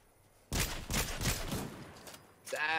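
Burst of rapid gunfire in the Fortnite video game, several loud close shots in quick succession followed by a brief lull and another sharp report, with no talk over it.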